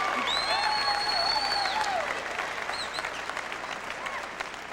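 A large bowling crowd at the Von Braun Center cheers and applauds loudly at the 1997 ABC Bud Light Masters, with dense sustained clapping, a few piercing whistles, and scattered shouts throughout.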